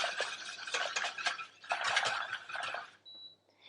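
An agar-agar mixture is whisked briskly in a pot heating toward a boil, with rapid scratchy strokes in two bursts and a brief pause before a faint tone at the end.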